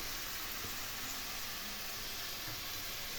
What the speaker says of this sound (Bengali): এগুলো একটু কষিয়ে নেব তেলের মধ্যে। মশলা যাতে পুড়ে না যায় তার জন্য একটু জল দিয়ে দিলাম।